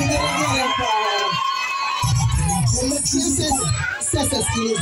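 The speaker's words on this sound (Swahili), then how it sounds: "Jamani piga kelele na vigelegele pale" A wedding crowd shouts, cheers and ululates together, with children's voices rising in the mix, loud and close, with a brief lull before the noise surges again.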